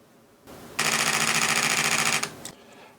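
Rapid continuous-high shutter burst from a Nikon Z6II mirrorless camera set to JPEG fine, a dense even stream of mechanical clicks lasting about a second and a half, close and fairly loud, with no talk.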